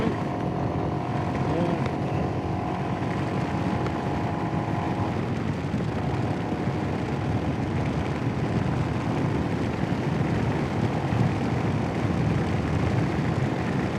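Royal Enfield Himalayan motorcycle engine droning steadily in fourth gear on a ride, a continuous loud hum mixed with helmet wind rush, no talk heard.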